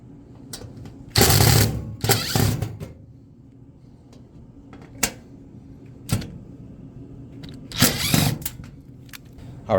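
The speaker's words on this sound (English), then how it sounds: "You're just going to want to remove those 4 screws so that we can take that panel" A power drill removes the panel screws on an LG front-load washer, with a few short loud whirring bursts separated by quiet pauses and small clicks and taps, close up.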